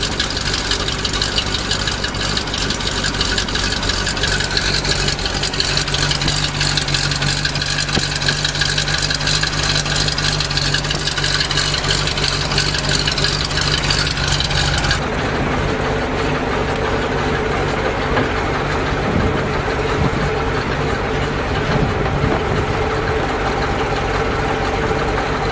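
A 427 dump truck's engine runs steadily in gear, a loud, continuous mechanical drone with knocking texture. Partway through the tone shifts as the load changes, and the engine keeps running without pause to the end.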